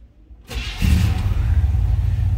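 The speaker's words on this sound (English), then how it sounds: "Go ahead and fire it up so you can hear it run also." A 1970 Chevrolet C10 pickup engine cranks and fires up, then settles into a steady, fairly loud running rumble close by, with no talk over it.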